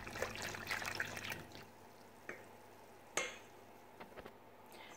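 A cake cream mixture stirred steadily in a pot as it heats toward a boil, with soft wet scraping and swishing early on, then quieter moments broken by a few sharp clinks of the utensil.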